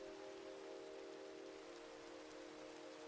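Steady rain falls in the Minecraft video game, a dense even hiss with a soft droning tone underneath, continuous and unbroken with no voices.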